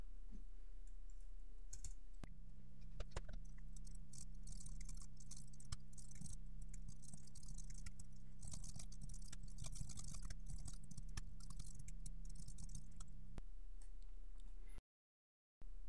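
Someone types code on a computer keyboard, with quiet, irregular key clicks running over a low steady hum. No voices are heard.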